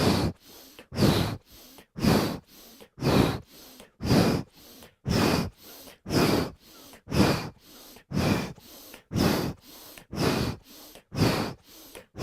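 Rhythmic yoga breathing during a kundalini practice: about a dozen forceful, evenly spaced breaths, each a short airy rush, close to the microphone and otherwise quiet.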